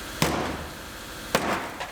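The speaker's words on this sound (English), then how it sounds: "I'm just gonna hit it with a sledgehammer." Two heavy metallic blows from a sledgehammer striking the spot welds of a rebuilt GMC Terrain's car body, with a softer third knock at the end, each impact sharp and close with a short ringing decay.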